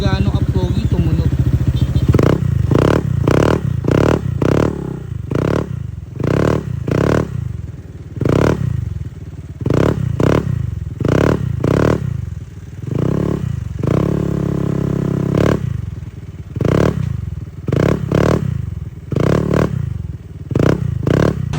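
A Honda PCX 160 scooter with a KVIN aftermarket exhaust pipe is revved repeatedly, giving loud close bursts of engine roar in a quick rhythmic series with short pauses between blips.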